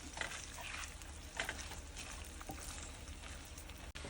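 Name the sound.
onions frying and being stirred in a pan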